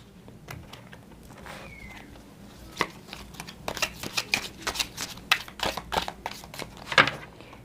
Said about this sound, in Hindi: एक बार फिर से शफल कर लेती हूँ, ठीक है।